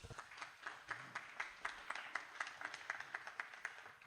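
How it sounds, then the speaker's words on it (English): A small audience at a 1 Million Cups startup event in Provo claps for a presenter, with sparse, distinct hand claps in a loose rhythm, moderately close and fairly quiet. "We want to give Mike a round of applause."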